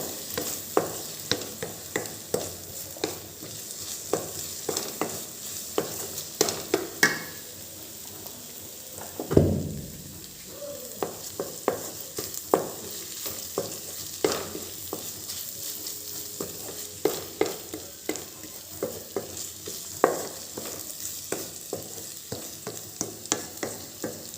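Tomato, green chilli, ginger and garlic paste fries in a pan with a quiet continuous sizzle, while a spoon stirs in frequent rhythmic scrapes and taps, one louder knock midway, and no one speaks.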